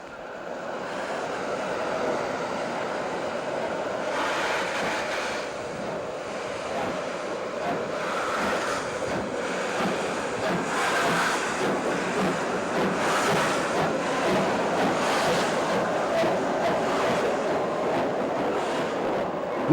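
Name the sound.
Jogja Express train running in Java, Indonesia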